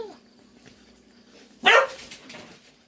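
A single loud, sharp bark from dogs in a home kitchen, standing out from a quiet background, followed by a brief fading tail.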